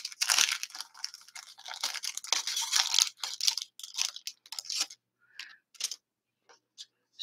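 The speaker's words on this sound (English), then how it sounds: "maybe then it's smart for me to also die cut the other one" Paper being die cut with cutting dies, a dense crackling, crunching run for several seconds that thins into sparse small ticks and rustles, close and fairly quiet.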